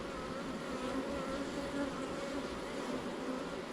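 Honey bees buzz in a steady, dense drone during a spring hive inspection, a close, continuous hum with no voices.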